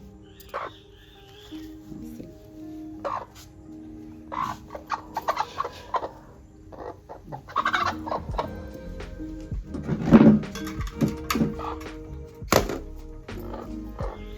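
A broody hen being set on a clutch of eggs clucks in short, scattered bursts. Dull thumps and rustling from handling come through nearby, and the clucks grow louder toward the middle.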